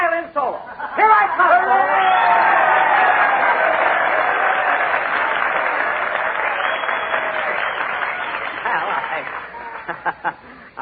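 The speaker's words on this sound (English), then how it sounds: "I'm sure that with a little encouragement and applause, we can get Jack Benny to come up here" Studio audience applauding at a comedy radio-style show as a performer is urged up to play a violin solo, a sustained loud wave of clapping with some chuckles and chatter, rising quickly and tapering near the end.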